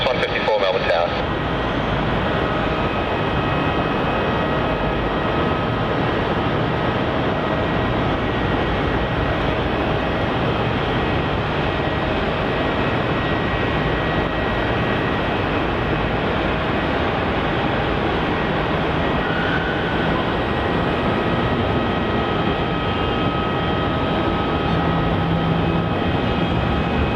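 An Embraer E190 jet rolls down runway 27 for takeoff at Melbourne Airport, a steady, loud broadband engine roar holding for the whole stretch with faint tonal whine above it.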